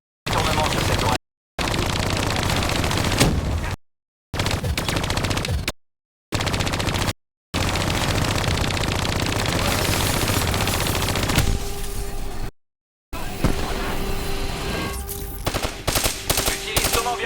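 Heavy automatic gunfire from a Call of Duty: Black Ops 3 firefight comes in repeated loud bursts with short gaps. Explosive crackle and a sustained rattle fill the mix.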